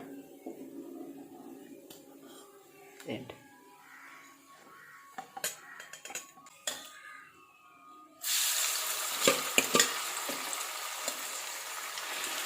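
Quiet kitchen clatter with light taps, then a loud, steady sizzle of sardines frying in hot oil takes over, crackling continuously.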